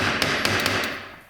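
A hammer taps a part off a 1980s barn-find dirt bike, striking a crack to spread it open: four quick, sharp metallic taps at an uneven pace, close up, over a low steady background.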